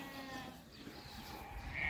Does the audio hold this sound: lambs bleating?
yes